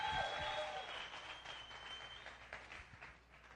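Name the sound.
church congregation applauding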